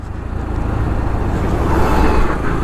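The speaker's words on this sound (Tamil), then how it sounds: "எவ்வளோ ஆர்மி வண்டி வருது பார்த்தீங்களா?" Army vehicles rumble past on a mountain road in Ladakh, a steady loud low engine drone building slightly toward the end, heard from close by without any talk.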